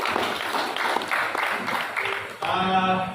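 Applause from a seminar audience at a palm oil farmers' meeting, a dense burst of clapping that carries on briefly before fading into a brief tonal sound.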